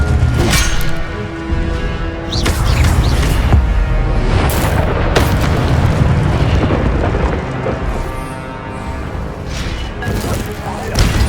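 An Incendio fire spell erupts in Hogwarts Legacy with a loud, rumbling, roaring blast that sustains for several seconds, broken by sharper bursts and crashes and overlaid with a voice speaking.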